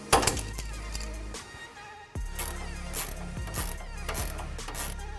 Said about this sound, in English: Now we're going to fully tighten up the top and bottom of the sway bar end link.